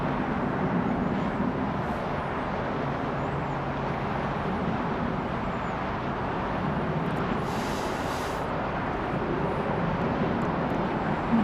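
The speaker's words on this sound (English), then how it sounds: "We've got a American Airlines flight from Mexico City coming in." An American Airlines jet arriving at DFW Airport on runway 17 left after a flight from Mexico City, heard as a steady, broad engine roar holding at an even level throughout with no talk.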